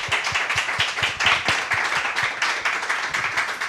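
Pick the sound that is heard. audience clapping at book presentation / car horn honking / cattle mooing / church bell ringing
audience clapping at book presentation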